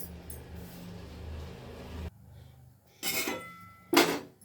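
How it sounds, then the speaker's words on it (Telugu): A kadai is set on the stove for frying urad dal murukku, with a quiet stretch broken by two distinct metallic clanks about a second apart, close by. "ఇప్పుడు స్టవ్ అంటించుకొని బాండి పెట్టుకుందాం ఫ్రై చేసుకోవడానికి"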